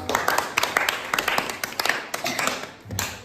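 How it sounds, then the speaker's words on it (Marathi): Children in a classroom clap for a classmate after a matchstick puzzle, uneven rhythmic claps from a small group, fairly close, with some irregular louder hits. "स्वातीसाठी एकदा टाळ्या वाजा"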